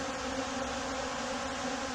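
Honeybees return to their hive with pollen loads on their hind legs. A steady, close buzzing drone holds evenly throughout with no pauses.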